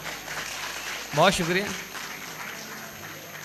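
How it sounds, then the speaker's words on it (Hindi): Audience at a mushaira poetry gathering breaks into a brief burst of clapping that swells and fades within a couple of seconds, partly under a voice speaking over the hall. "अगर आप खुलकर तालियां बजाएं तो"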